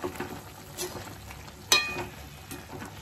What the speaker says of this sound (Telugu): చికెన్ ఉడుకుతుందండి. ఒకసారి దీన్ని మంచిగా కలుపుకుందాం.